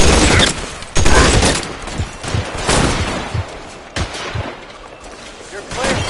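Gunfire from the PS4 game LA Noire: a dense fusillade of loud, rapid shots and bursts fills the scene, with sharp cracks cutting through continuous background noise and a shouting voice.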